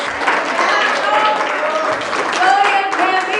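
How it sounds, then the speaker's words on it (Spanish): Church congregation applauding during a sermon, a steady broadband patter of many hands with voices and tonal sounds running over it. "Dale el aplauso a Dios."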